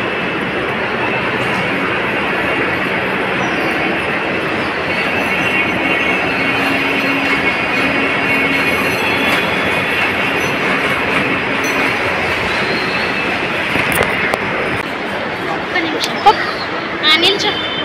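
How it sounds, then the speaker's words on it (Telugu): An airport shuttle train at Shamshabad Airport arrives, its loud rolling rumble and wheel noise filling the platform, with a faint squeal near the end. "మళ్ళీ మళ్ళీ ట్రైన్ వస్తుంది."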